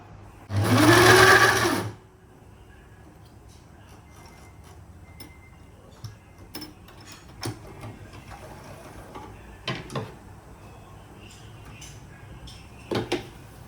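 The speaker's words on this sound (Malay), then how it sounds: "sanggup belajar untuk guna mesin jahit" A sewing machine stitching pillowcase fabric runs in one loud, close burst of about a second and a half. Then it stops, and scattered quiet clicks and handling taps follow in a still room.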